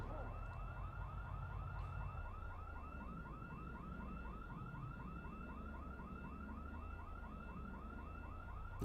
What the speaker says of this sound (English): You can hear that alarm going off.